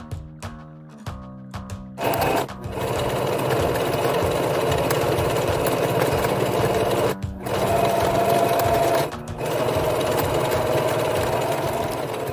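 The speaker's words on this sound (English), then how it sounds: "I went ahead and put my two right sides together and I sewn the two sides and the bottom," A sewing machine stitches the sides and bottom of IKEA hand towels sewn together into a grain sack pillowcase, its steady close mechanical whir running almost continuously with a few brief pauses.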